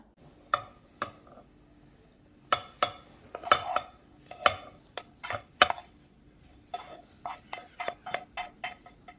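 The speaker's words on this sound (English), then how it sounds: "Now let's empty it into a bowl and allow it to cool down." A spoon scrapes cooked samosa filling out of a pan and into a bowl. The metal clinks and scrapes come in irregular bursts at first, then settle into a quicker run of taps near the end.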